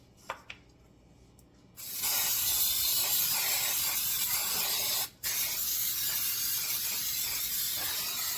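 Cooking spray hisses into cake pans for a butter cake in two close bursts, a long steady spray, a brief pause, then another sustained spray.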